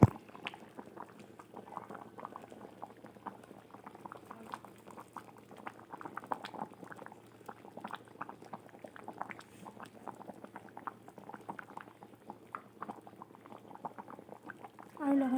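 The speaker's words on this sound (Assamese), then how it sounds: "এতিয়া উতলিবলৈ আৰম্ভ কৰিছে" Magur fish curry with ou tenga boiling in a pot, a continuous close bubbling and gurgling that stays fairly quiet, with a brief louder knock at the end.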